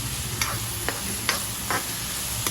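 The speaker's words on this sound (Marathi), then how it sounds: "आता मी कांदा पूर्ण गोल्डन ब्राऊन शिजवून घेणार आहे" Salted onions fry in a pan for pav bhaji under a dense sizzle, and a spatula scrapes and stirs them in short strokes about every half second.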